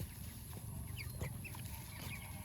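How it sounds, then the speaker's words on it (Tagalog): Broiler chickens on a rural Philippine farm cluck and chirp faintly over a steady low background hum, with no voices. "Itong mga chicken natin kailangan din nilang kumain ng mga carabao grass"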